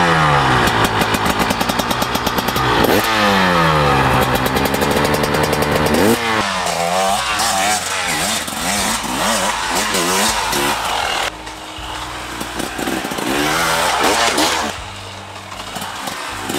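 KTM 300 XC-W two-stroke dirt bike, a 2024 model, ridden on an open ranch, its loud engine revving and wailing up and down continuously and close by, changing pitch with throttle and gears.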